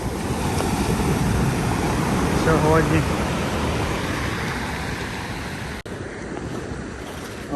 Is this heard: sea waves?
yes